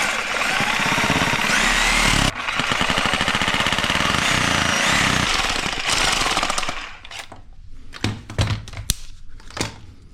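A power tool cuts through an air intake part during a universal cold air intake install on a 2005 Ford Focus, a loud continuous grinding buzz for about six seconds, then several sharp knocks and bursts as it stops.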